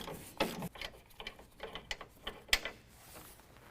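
A ratchet working a 21mm nut on a 2015 Ford F-150 front bumper, with uneven clicking pawl sounds, short bursts of turning and a sharper metallic knock, close with no talking.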